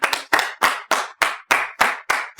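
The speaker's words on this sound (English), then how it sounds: "Let's give him a round of applause for that" Roughly eight loud, evenly spaced hand claps ring out close by, each sharp and separate, like one or a few people clapping in a slow rhythm during a tabletop game session.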